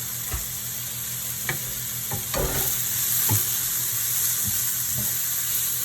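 Vegetables for chow mein sizzle and hiss in a pan on a very high burner, with scattered clacks and scrapes of a utensil stirring them, steady and close throughout.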